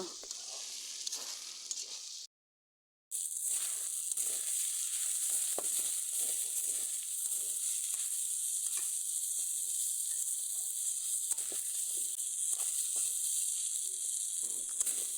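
Fish jhura with lemon leaves sizzles hard in a pan as it is stir-fried, a loud continuous hiss broken by a brief silent gap and layered with frequent scraping and clattering stirs.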